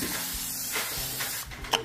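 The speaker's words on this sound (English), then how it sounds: "I'll just spray it." Cooking spray hisses from a can onto a kitchen pan in a short close burst, with a second brief puff at the end and no talk.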